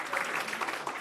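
Town hall audience applauding the Mayor of the 40th District, a steady wash of dense clapping throughout the brief burst.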